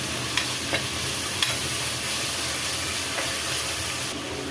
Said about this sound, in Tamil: தக்காளி ஒரு பெரிய சைஸில் 3 தக்காளி அரிஞ்சிருக்கா போட்டுக்கலாம். இதையும் வதக்கிக்கலாம்.